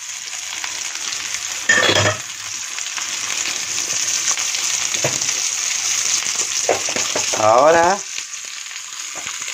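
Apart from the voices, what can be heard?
onion and garlic frying in a pan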